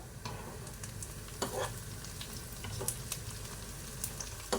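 Onions frying in a pan give a quiet steady sizzle, broken by a few sharp scrapes and taps of a spoon, heard close with no one talking.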